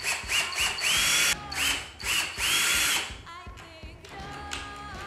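A cordless power drill drives a large screw into wood while building a one-string diddley bow, with several loud whirring bursts that rise in pitch, stop, start again, then trail off.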